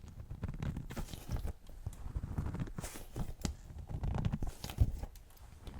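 Soft crunching and crackling squeezes from a crunchy squishy toy, close up and continuous, like compacting snow, with irregular squishy pulses.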